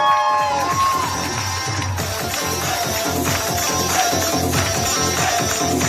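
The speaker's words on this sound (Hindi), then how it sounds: "जोरदार तालियों के बीच में" Dense crowd noise from an audience at a business event, broad cheering and whooping with constant clapping texture, loud and sustained throughout with a public-address voice in places.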